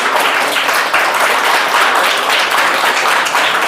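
A crowd applauds together, dense, steady clapping filling the room for a few seconds with no talking.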